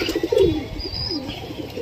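Soft, low pigeon coos repeat nearby in a gentle rolling rhythm, with faint chirps and quiet background noise and no talking, from pigeons kept for pigeon flying in Jammu.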